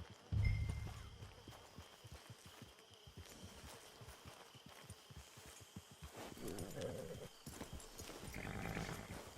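Horse hooves clip-clop steadily on the ground in the Red Dead Online video game, a rhythmic run of hoofbeats after a brief loud thump, with a whinny hinted and some rustling movement throughout.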